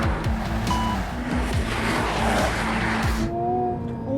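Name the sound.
Honda car driving a hot lap on track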